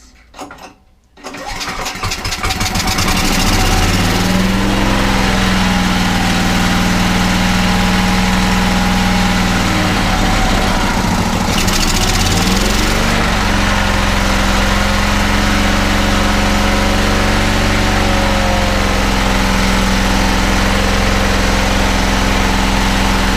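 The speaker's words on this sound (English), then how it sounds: "Let me try and start it again with no choke." A Hayter Hayterette lawn mower, left sitting for over two years, sputters into life and then runs continuously and loudly at a steady idle, close to the listener.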